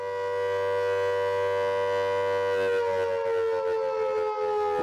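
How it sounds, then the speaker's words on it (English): A flood warning siren wails steadily and loudly during an annual test in Calderdale, its sustained tone shifting partway through as it continues without pause. "We had our 8 sirens going off at 10:30 this morning"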